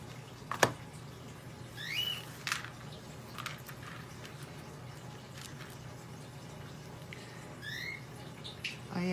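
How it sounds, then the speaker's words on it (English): Pet birds chirp in the early morning, with a few short high tweets and sharp calls scattered over a low indoor hum, faint and fairly distant. "So that noise you're listening to is my birds."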